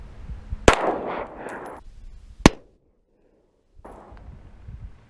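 Two sharp reports from a Smith & Wesson M&P 5.7 pistol, one near the start and a second about two seconds later, loud and close, with outdoor rustle and handling noise between them and a brief stretch of silence afterward.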